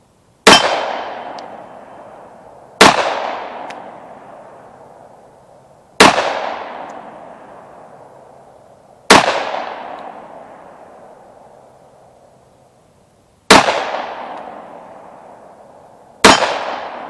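Six sharp pistol shots ring out during target drills, spaced a few seconds apart with irregular gaps, each loud crack trailing off into a long echoing decay outdoors.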